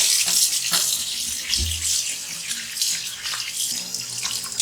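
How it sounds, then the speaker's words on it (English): A kitchen tap runs hard and splashes while raw meat is washed for Ghanaian abunabunu soup, a close, continuous hiss with uneven splatter and a brief thud. "now I'm going to wash the meat"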